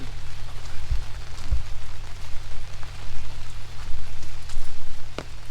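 Rain falls steadily on a durian orchard, a close, even patter of drops on leaves and surfaces, with no voices.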